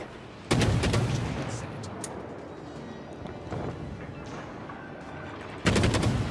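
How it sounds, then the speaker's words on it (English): Destroyer guns firing on HMS Jervis, a Tier VII British destroyer in World of Warships, in two loud bursts of salvos at the start and near the end, with a rumbling battle ambience between them. "I'm going to start working the guns"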